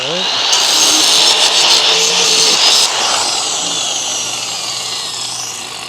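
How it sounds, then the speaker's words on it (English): Angle grinder working over atrocious, porous welds during a Scout restoration, a loud continuous high-pitched whine and grinding rasp that holds for about three seconds, then eases into a fading spin-down. "I'll use my angle grinder on these ones, I think."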